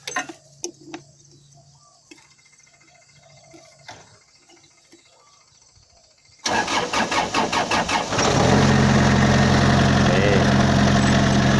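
A Hitachi EX30 mini excavator is started with a motorcycle key. After a few faint clicks and knocks, the starter cranks briefly and the diesel catches, settling into a loud, steady, close idle.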